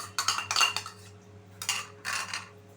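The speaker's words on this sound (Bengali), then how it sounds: "এই টক দইটা দিয়ে একটু ভালোভাবে আমি মিশিয়ে নেব।" Yogurt being mixed into a simmering curry in a pan for chanar kaliya, heard as two bursts of metal spoon scraping and clinking against the pan, with a brief pause between them and no talk.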